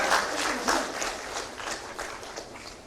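A crowd at a launch ceremony for the Jharkhand sports policy 2022 applauds during a lamp-lighting ritual, the clapping fairly soft and uneven with scattered sharper claps.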